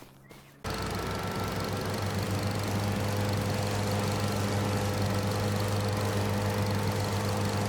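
Mowing machine engine in Farming Simulator 25, a steady droning hum that starts abruptly after a brief quieter moment and holds even and close to the end.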